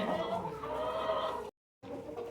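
Hens cluck and murmur softly at close range in a steady low chatter, broken by a brief moment of silence before resuming.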